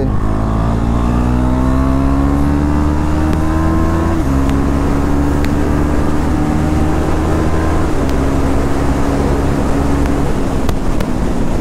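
A superbike engine accelerates on a ride, a loud continuous roar climbing in pitch through gear changes with the rush of wind throughout.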